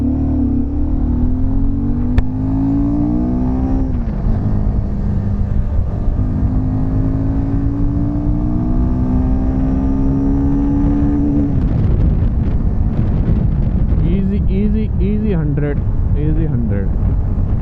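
Royal Enfield Himalayan 450 motorcycle ridden on an open road, its engine note rising steadily through the gears with strong wind rush on the microphone, then shifting and revving again near the end.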